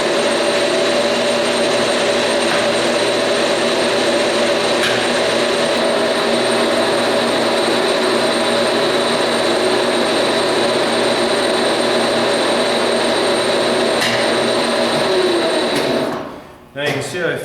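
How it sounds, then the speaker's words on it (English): A metal lathe runs a cross-feed facing cut on the end of a part, producing a loud, continuous mechanical whine and hum that holds steady before winding down near the end. "turn my lathe on."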